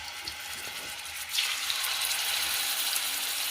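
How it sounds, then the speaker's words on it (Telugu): Fish pieces coated with salt and turmeric frying in oil, a steady broadband hiss and sizzle that swells after a quieter start and holds loud and even to the end, with no talk. "చేప ఫ్రై చేసుకుంటున్నాను."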